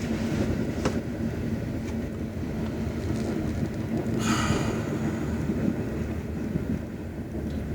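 A train passing as a steady broadband rumble with wind buffeting, a brief hissing screech midway, continuous and moderately loud throughout.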